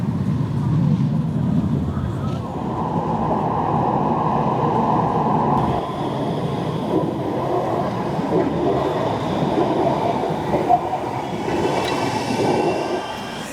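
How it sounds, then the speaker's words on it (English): A Manchester Metrolink tram rumbles and hums steadily as it rolls into Prestwich stop on the Bury line, with rail clatter and squeal nearby and faint background noise. "There it is, this tram, to the next stop along the line of Prestwich"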